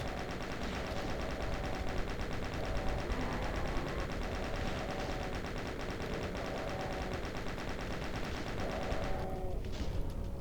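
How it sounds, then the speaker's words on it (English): Rapid sustained chain gun fire in a Doom map, a dense continuous stream of shots with no let-up, ending with a different burst of game sounds. "I'm down to just a chain gun, which this is a perfect chain gunning opportunity"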